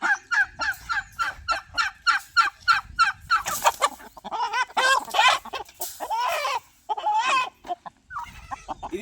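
Rapid series of close, loud clucking and crowing calls from a Bersa breed rooster, some harsh and drawn out, with brief pauses between bursts.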